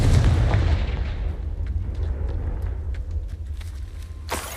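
A Confringo blasting spell explodes in the Hogwarts Legacy video game, giving a loud, booming blast that opens the clip and a dense low rumble that carries on throughout, with a few sharp crackles on top and a fresh burst at the end.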